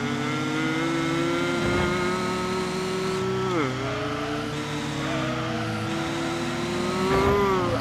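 Racing car engine from the Gran Turismo video game on the Clubman Stage Route 5 track, revving loudly and steadily with pitch dips at gear shifts and brief tire squeals through corners.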